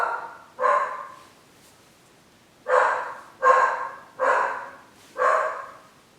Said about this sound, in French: Je te parie qu'il est en train d'aboyer après un écureuil en plus.